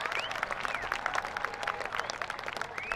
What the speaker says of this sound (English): Can we give him another round of applause for supporting our CEO banquet?